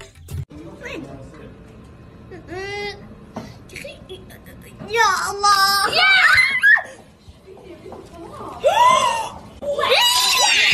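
A child screaming and crying in loud, high, wavering wails and shrieks, broken into several bursts with short gaps between them, close by, with some giggling and chatter mixed in.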